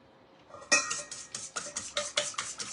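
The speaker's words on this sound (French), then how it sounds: "Et on mélange le tout." Zucchini and goat cheese batter being mixed in a bowl, with a utensil clinking and scraping against the sides in a steady, rhythmic series of close, moderately loud strokes.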